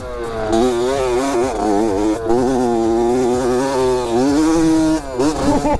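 A small moped engine revs loudly and continuously while ridden off-road on rough enduro terrain, its pitch rising and falling with the throttle, recorded up close with no talking.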